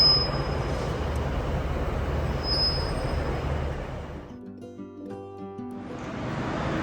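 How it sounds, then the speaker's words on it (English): Train at Glasgow Central station, a steady rumble of rolling carriages with a squeal of wheels, fading briefly to quieter rail tones before the rumble builds again. "Last train to Glasgow Central."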